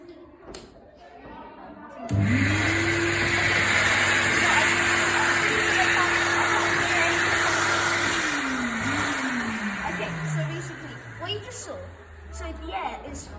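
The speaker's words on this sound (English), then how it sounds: "this is a quick bit on how steam engines work. I like to turn it on." A model steam engine starts abruptly and runs with a steady, loud mechanical hum, then its pitch sags as it slows and winds down toward the end.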